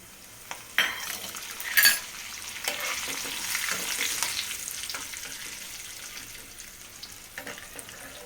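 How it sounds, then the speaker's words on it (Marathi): Curry leaves and peanuts crackle in hot oil with cumin and asafoetida for Gujarati batata poha, a steady close sizzle with a couple of sharp pops and spatters near the start. "आता आपण यातला कढीपत्ता टाकी देऊ"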